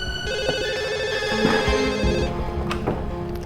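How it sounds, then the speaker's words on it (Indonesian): A telephone rings steadily through an earpiece while a call is placed to a hospital admin office. The ringback tone is continuous and moderately loud, with a faint room background and occasional soft clicks. "saya coba telepon admin sini deh"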